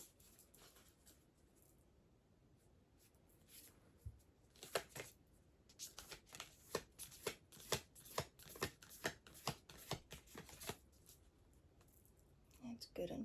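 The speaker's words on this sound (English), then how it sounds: "It's good and shuffled." Oracle cards are shuffled by hand in a quick run of crisp, rhythmic riffles and snaps, close by, after some quiet handling.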